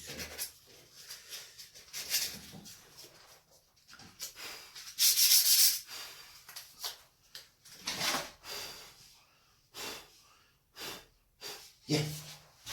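Sandpaper rasps across wood in uneven strokes, a soft scratchy rubbing that comes and goes, fairly quiet and close.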